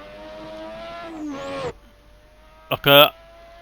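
A 1988 Formula 1 car engine in Assetto Corsa at Bahrain drones and revs up with a rising whine, cuts off, then a sharp high-pitched burst of revving follows near the end.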